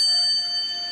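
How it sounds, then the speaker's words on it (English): A quiz bell on a radio show rings once with a clear, sustained metallic tone that slowly fades, heard alone without talk. "remember to wait for the bell"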